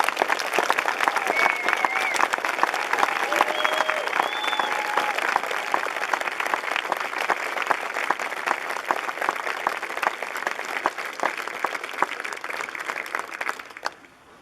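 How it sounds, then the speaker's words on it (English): Outdoor crowd at the Mount Rushmore evening program claps in a long, sustained round that stays fairly loud and even, with scattered voices and brief whistles mixed in, fading out at the end. "I'd like to ask for one more round of applause,"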